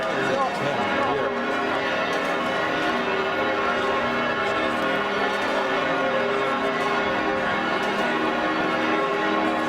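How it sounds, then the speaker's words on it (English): Cathedral bells ring continuously in a dense, loud, overlapping peal that fills the space with sustained resonant tones and never pauses. "I don't think these bells ever stop"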